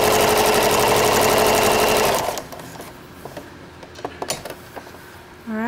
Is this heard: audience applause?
no